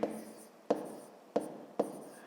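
Handwriting numbers on paper during a fifth-grade math exercise: four sharp taps of a pen or pencil set down, each followed by a short trail of scratchy strokes, spaced evenly and close.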